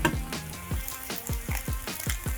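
Eggs and crispy chillies frying in a pan with cauliflower rice, a steady close sizzle broken by repeated soft scraping strokes of stirring.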